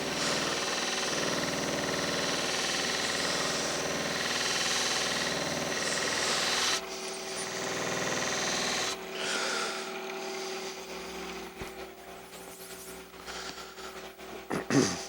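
Buffing wheel polishing a knife blade to a mirror finish: a steady motor hum with a rough rubbing hiss as the steel presses on the spinning wheel, shifting in tone when contact changes, ending in uneven scrapes.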